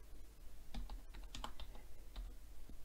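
Keys clatter on a computer keyboard as a search is typed, a quick irregular run of soft clicks close by and fairly quiet, with no voices.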